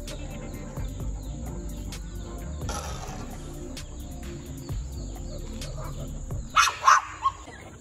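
A litter of six puppies: after a quiet stretch with faint bird chirps, a few sharp, high puppy barks and yips burst out close by near the end.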